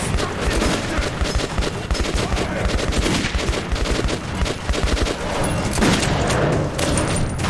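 Pistol fire in Metro 2033 Redux comes as dense, continuous shooting, with rapid sharp reports layered over a constant roar of gunfire and noise across the whole stretch.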